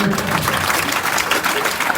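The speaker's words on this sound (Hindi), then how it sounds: "इनके लिए जोरदार ताली बजाइए।" An audience claps loudly at a Hindi devotional bhajan performance, producing a dense, steady wash of applause that holds at an even level throughout.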